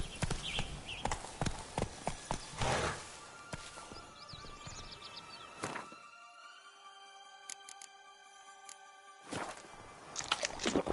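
Roach the horse runs in The Witcher 3: a rhythmic clip-clop of hooves at a quick pace, interrupted by brief musical tones and a pause, then the hoofbeats return near the end.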